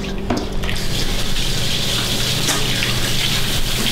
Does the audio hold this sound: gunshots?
no